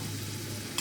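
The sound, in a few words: spice paste frying and being stirred in pan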